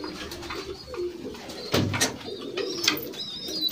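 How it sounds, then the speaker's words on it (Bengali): Arshad line Madrasi pigeons cooing nearby in low, soft, repeated murmurs, with some rustling and a brief louder burst near the middle. "এবার আপনাদের আরশাদ লাইনের পায়রা দেখাবো ফ্রেন্ডস"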